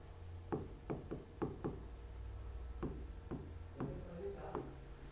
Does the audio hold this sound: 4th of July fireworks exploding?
no